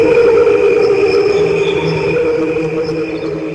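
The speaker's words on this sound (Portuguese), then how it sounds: "é o canto desacelerado dos grilos, é o coral que a gente não ouve dos grilos" Slowed-down chorus of crickets, a dense, steady layered drone with sustained tonal bands and a continuous wash of texture throughout, playing alone without any voices.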